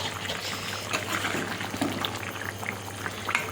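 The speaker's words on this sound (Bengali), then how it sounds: "ঝোলটা ফুটে উঠেছে, এবারে মাছগুলো দিয়ে দেবো।" A pot of thin fish curry broth bubbling steadily on the stove as fish pieces go in, with a continuous simmering hiss and small liquid splashes, close and moderately loud.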